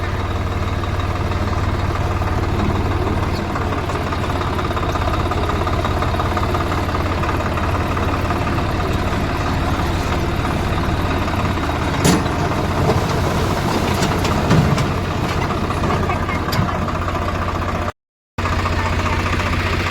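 A tractor engine droning steadily while driving home through a river, a loud, close, continuous low rumble with faint rattles, briefly cutting out near the end.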